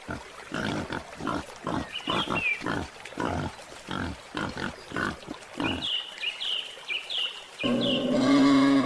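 A pig grunts in a rapid, rhythmic series of close, rough snorts, pausing briefly before a few higher squeals and a final burst of louder, harsher noise.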